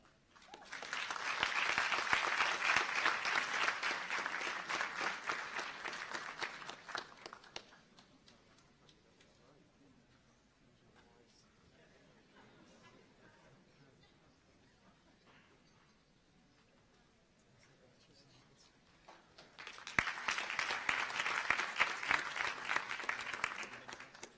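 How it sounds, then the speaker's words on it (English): Audience applause at a university commencement ceremony for graduates, a long loud burst of clapping that fades to quiet, then a second strong round of clapping starts again. "Let's give another round of applause for all the graduates from the School of Graduate Studies."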